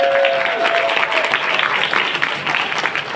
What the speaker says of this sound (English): So give me a big round of applause.